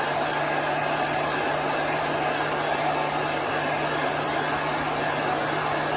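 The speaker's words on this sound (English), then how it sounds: "Now we're going to dry this with our heat gun." A heat gun drying chalk paint blows with a steady, loud whooshing roar and a constant motor whine, unchanging throughout.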